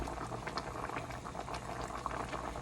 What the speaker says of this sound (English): as you see, our peaches have now started boiling